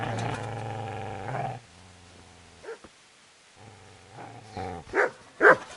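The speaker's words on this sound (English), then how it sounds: "Get away, you mutt!" A dog in the medieval video game Kingdom Come: Deliverance growls low and continuously at someone, then a few sharp, loud barks burst out at the end.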